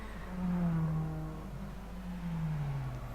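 A race car in Gran Turismo 5 pulls out of the pits at Motegi, its engine a steady, droning whine that rises and falls slightly while holding a sustained pitch throughout.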